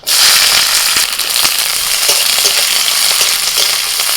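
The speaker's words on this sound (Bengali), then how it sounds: "কড়াইতে আমি একটুখানি তেল দিয়ে দিয়েছি ওর মধ্যে দিয়ে দিচ্ছি পেঁয়াজ কুচি" Chopped onions fry in a little oil in a kadai, giving a loud, dense sizzle with constant crackling and spitting that runs steadily throughout, with no voices.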